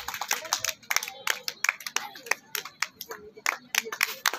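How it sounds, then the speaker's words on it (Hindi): Audience at a village welcome ceremony for the sarpanch in Udaipur clapping in brisk, uneven bursts of nearby hand claps, with faint voices mixed in underneath. "तालियां।"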